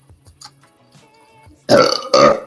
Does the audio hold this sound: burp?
yes